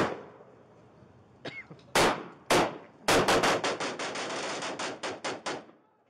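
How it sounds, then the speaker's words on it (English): A police shootout behind a restaurant, a suspect firing a handgun and officers returning fire: loud sharp shots, a few single cracks followed by a rapid volley of a dozen echoing blasts outdoors. "began discharging his handgun at the officers, resulting in the officers returning fire"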